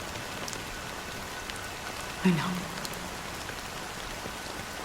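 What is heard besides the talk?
rain falling in a video game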